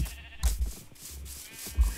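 Sheep bleats in the video game Minecraft, two or three short bleats over a steady background hum and rustling, fairly close and clear.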